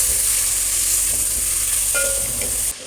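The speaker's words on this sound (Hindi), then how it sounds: "अब मैं ये चिकन डालने लगी हूँ, इसको फ्राई करूँगी।" Bone-in chicken pieces fry with garlic in a pan, giving a loud, dense, continuous sizzle up close that cuts off abruptly near the end, with no talking.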